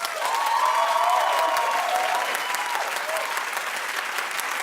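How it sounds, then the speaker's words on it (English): A television studio audience claps in a dense, even burst of applause with a few voices calling out, holding steady for a few seconds. "Clap if you want Sam to win."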